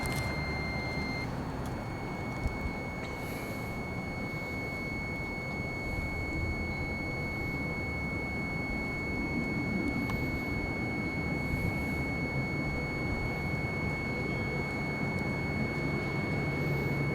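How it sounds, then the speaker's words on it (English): A REM pod paranormal detector gives off a steady, sustained high-pitched tone over a constant background hiss, with a few faint extra chirps, during a paranormal investigation at a Connecticut hospice homecare building. "Can you make the REM pod do anything else besides the high-pitched noises?"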